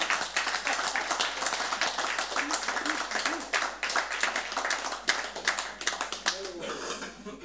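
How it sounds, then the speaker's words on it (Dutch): Dense applause from an audience fills the whole stretch, many hands clapping steadily and fairly close, with brief murmurs of voices underneath. "En ze willen voor ons klappen eerst."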